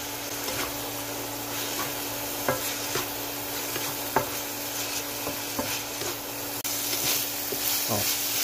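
Ground pork seasoned with cooking wine and salt is stir-fried in a wok: a steady close sizzle with scattered sharp scrapes and clinks of a spatula stirring the meat.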